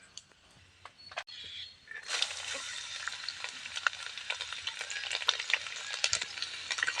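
Garlic frying in oil for a curry leaf pickle: a quiet start with a few clicks, then a loud, steady crackling sizzle from about two seconds on, with scattered pops and no talking.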